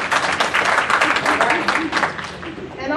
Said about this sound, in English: Now we can applaud for that.